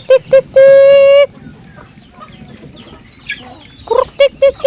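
Backyard chickens cluck loudly and close by while being fed moistened feed: a few sharp clucks, a long drawn-out call, quieter shuffling, then another burst of rapid clucking.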